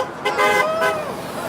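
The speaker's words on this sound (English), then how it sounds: "Virtually every car that's going by is honking because nobody loves the carbon tax." Passing cars honk their horns on the street outside an MP's office during a tax protest, two or three loud toots over steady traffic noise.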